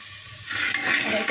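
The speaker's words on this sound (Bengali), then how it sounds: "প্রেশার কুকারে তেল দিয়েছি সমস্ত মশলা দিয়ে দিয়েছি ভালোভাবে কষিয়ে নিচ্ছি মশলাটা" Masala being sautéed in oil in a pressure cooker while cooking pigeon meat: a soft hiss, then a sudden louder sizzle with stirring scrapes at close range, with no speech.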